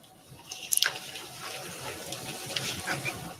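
Water running steadily from a tap, a continuous soft gushing wash with a few brief bright clinks near the start, heard alone at moderate level.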